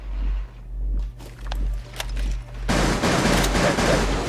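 Gunfire in Rainbow Six Siege, a few scattered close shots and clicks that give way to a loud, sustained burst of rapid automatic fire in the final second and a half.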